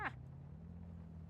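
A brief, faint cat meow from the video game Heartopia opens the moment, followed by a low steady hum with no talk.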